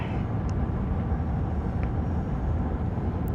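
Steady, loud rumble of a train running on the railway while approaching Ivy Bridge, with a continuous low roar and faint brief high squeaks.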